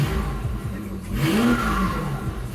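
A BMW E31 with the M70 V12 engine and a new throttle body revs in quick bursts, engine pitch sweeping up and falling back, loud and close with a rough rumbling undertone.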